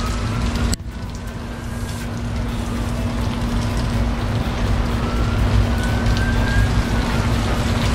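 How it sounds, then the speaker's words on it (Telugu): Heavy rain falls outside a house as a constant close hiss, joined by a low steady hum and a brief sharp knock near the start. "ఫుల్గా వర్షం ఇంకా పడుతూనే ఉంది"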